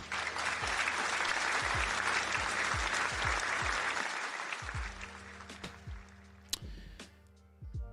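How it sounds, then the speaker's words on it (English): Audience applause swells loud and dense for about four seconds, then thins to scattered claps, with a low rhythmic beat running underneath. "Round of applause for that guy."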